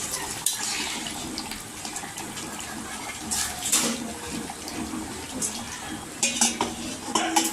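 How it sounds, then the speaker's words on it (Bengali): Water pours into a duck curry cooking in a metal pan, splashing and rushing amid clattering utensil and pot sounds before the lid goes on, all fairly close and loud. "এখন আমি এর মধ্যে জল দিয়ে 15-20 মিনিট ঢাকা দিয়ে রাখবো।"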